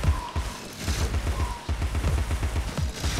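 Explosion in the video game Alice: Madness Returns, a burst of booming, crashing noise with rumbling low end and scattered debris-like cracks over a steady game background.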